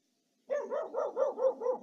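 A dog barks in a quick, even series of about six yaps after a moment of silence, sounding slightly thin as if played back from an old home recording.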